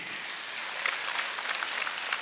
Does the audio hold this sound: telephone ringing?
no